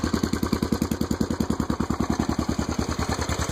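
A Yamaha XT500 motorcycle engine idles after a cold start, a close, even single-cylinder thump repeating rapidly and steadily with a mechanical clatter on top, throughout with no talking.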